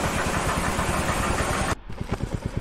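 A Royal Enfield Meteor 350 motorcycle engine idles with a rhythmic low thump, first masked by a loud rushing wash, then clear and close once it cuts off.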